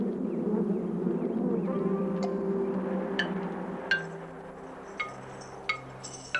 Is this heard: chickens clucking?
no